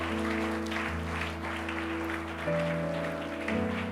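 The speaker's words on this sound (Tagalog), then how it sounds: "Palakpakan po natin ang Panginoon dyan" A church congregation claps in praise of the Lord, a steady ripple of hands over sustained keyboard chords that shift pitch partway through.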